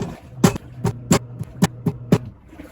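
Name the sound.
washing machine running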